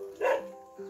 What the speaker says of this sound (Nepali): कुकुर माथि आयो नि